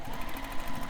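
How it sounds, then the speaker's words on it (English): Sewing machine back stitching along the curved panel of a handmade bag, a steady rapid mechanical whir close up and continuous, with no talk. "So I'm going to back stitch here."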